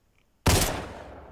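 A single loud Mosin rifle shot in the shooter game Arena Breakout cracks sharply after a quiet start, then trails off into a long fading echo.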